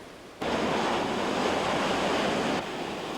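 Ocean surf breaks in a steady, broad wash of rushing water that swells in abruptly, holds loud and even for a couple of seconds, then drops back to a softer roar.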